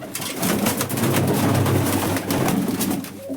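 Pigeons coo from a nesting box where a blue hen sits on her eggs: close, continuous throaty rolling calls over a warm low hum, with no talking.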